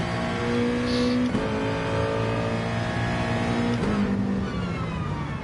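Nissan race car at full throttle through Monza's Curva Grande in Gran Turismo Sport, a loud, steady engine drone held flat out, with two brief pitch dips near the start and again toward the end.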